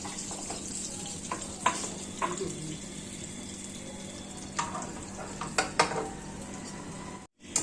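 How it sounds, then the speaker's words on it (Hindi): Chicken steak sauce with milk simmers in a pan under a soft, continuous sizzle, while a utensil stirs and scrapes with irregular clinks against the pan, and a brief clatter comes near the end. "इसको अच्छे तरीके से मिक्स करेंगे और इस थिक होने तक इसको पकाएंगे"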